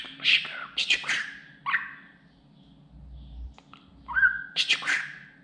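Pet budgerigar chirping and whistling close by in short bursts, some sweeping whistles and rapid warbled chirps separated by brief pauses, with a low hum in the background.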